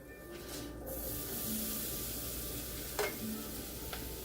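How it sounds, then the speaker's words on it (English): Mushrooms and green onions sauté in melted butter, giving a faint, steady sizzle with a couple of brief clicks of stirring. "the butter's melted. We're going to add our mushrooms and our green onions at the same time."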